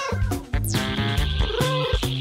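Cat meows mixed into a busy, cartoonish backdrop of tonal music and effects, with a few short, clear meowing calls in quick succession.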